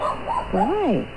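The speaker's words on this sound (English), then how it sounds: "Sorry about the dog." Dog giving a short whining, yipping bark that rises and falls over about a second, close by and indoors, with a voice briefly speaking.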